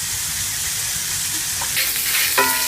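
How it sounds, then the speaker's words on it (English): Ground pork sizzles and crackles in a hot pan, a constant close hiss with a few clinks of a utensil near the end. "I'm just going to fry this up and drain it really well"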